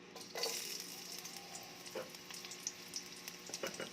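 Onions frying in very hot oil in a pan, a steady close crackling sizzle with small pops and occasional stirring scrapes, no voices.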